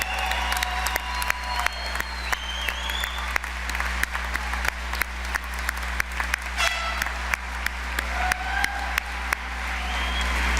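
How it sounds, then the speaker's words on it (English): A large crowd at a university graduation ceremony claps in a dense, sustained round of applause, loud and continuous with scattered sharp claps and faint cheers over a steady hum. "Let's give them a big round of applause."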